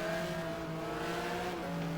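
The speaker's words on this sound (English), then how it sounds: "Let's listen to his engine as he goes by." Sustained Maserati race car engine whine in the racing game GTR2, holding an even, buzzy tone, with a small pitch dip near the end as the car moves by.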